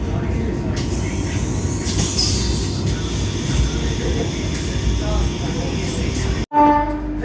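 A Vande Bharat express train rumbles steadily along the rails at moderate speed, a dense, loud continuous roar heard from on board that ends in a brief cutoff and a short tonal burst.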